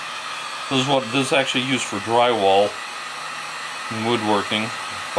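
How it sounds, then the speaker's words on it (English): A handheld blow dryer, a drywall-type Wagner heat tool, runs in a steady broadband whoosh to cure a fresh finish on a spinning woodworking piece, continuous throughout while someone talks over it. "I'll take a blow dryer and give it a little head start"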